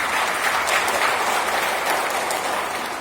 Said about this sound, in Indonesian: Tepuk tangan untuk Pak Haji Wali.